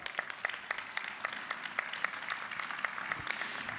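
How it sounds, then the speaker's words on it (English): Scattered applause from a graduation ceremony audience at the BGSU spring 2021 commencement, a thin, fairly quiet patter of individual claps that carries on steadily and sounds somewhat distant, with no talk over it. "Give yourself a round of applause."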